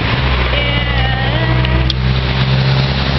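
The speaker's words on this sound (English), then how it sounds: "And see, look at all the cars." Loud, constant hum of passing car traffic close by, steady engine and road noise with a faint high chirp partway through.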